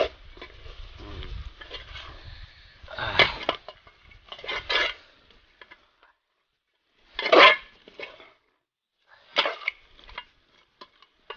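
Chicken kadai with curry leaves is stirred in a pan, giving a few separate bursts of scraping and clattering with quiet gaps between them. Sound is close and moderately loud, with no voices.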